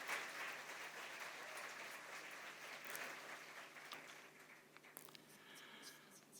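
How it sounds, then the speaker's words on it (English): Faint, distant applause from an audience at a political symposium in a parliament hall, a steady patter of clapping that thins out toward the end. "This is your round of applause"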